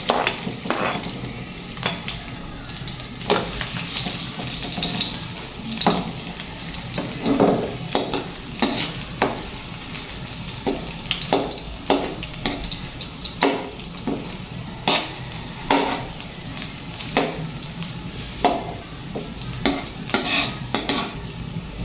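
Garlic sautéing in hot oil in a home kitchen, a steady close sizzle broken by frequent sharp stirring clacks of a utensil against the pan throughout.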